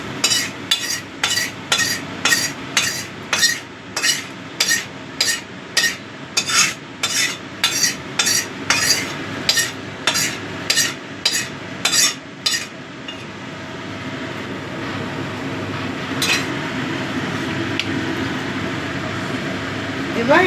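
Tomato gets mixed into fried eggplant in a pan, first as a run of regular, rhythmic metal-spoon scrapes and clinks against the pan, then a softer sizzle with a single clink, heard up close.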